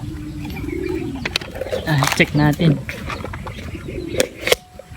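A racing pigeon coos in a few soft, throaty rolls close by, while a person speaks briefly before and after.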